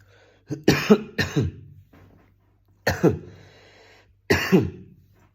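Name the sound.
cough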